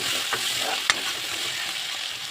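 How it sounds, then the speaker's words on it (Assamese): Crushed ginger and garlic paste fries in a pan, giving a continuous close sizzle with a couple of short stirring clicks, one sharper knock standing out briefly. "আদা নহৰুখিনি ভালদৰে ভাজি লৈ"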